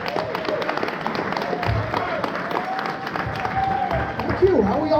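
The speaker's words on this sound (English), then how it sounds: "Give him a round of applause." A packed gala crowd applauds the MC being introduced at a charity event, a broad wash of clapping with a few cheers and a voice briefly rising near the end.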